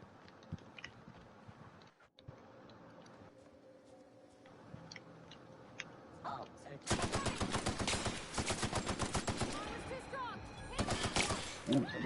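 Rapid automatic AK rifle fire in the video game The Outer Worlds, a loud dense burst of shots lasting several seconds after quieter game ambience, with a voice briefly audible earlier.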